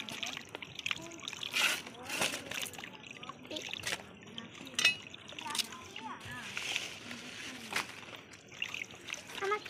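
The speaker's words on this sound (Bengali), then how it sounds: "এবার আমাদের একটা বোন কলা পাতাগুলোকে ধুয়ে নিচ্ছে।" Water splashes and trickles unevenly as banana leaves are rinsed outdoors for a picnic meal, with occasional clinks and voices talking nearby.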